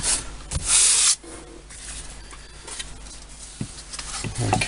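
Sandpaper rubs across a sheet of balsa wood for a model aircraft, giving a brief loud scratchy stroke near the start, then softer scattered rasps and light taps, with another stroke building at the end.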